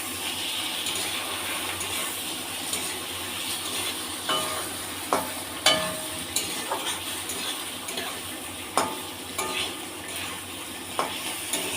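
Potatoes and onion fry alongside fish in an oiled pan with a steady, soft sizzle throughout, punctuated by periodic scraping stirs and light clinks of a spatula.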